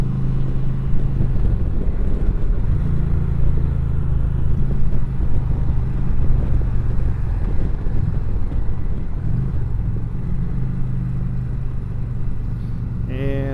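A 2020 Indian Challenger motorcycle rumbles along on a demo ride, its low engine drone steady throughout with shifting pitch as it accelerates, mixed with heavy wind noise buffeting the microphone.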